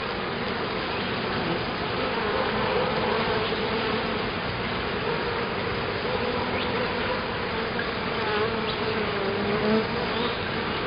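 Dense honeybee buzzing fills the air steadily during a swarm hive inspection, a close, continuous drone of many bees with small swells in loudness and no talk.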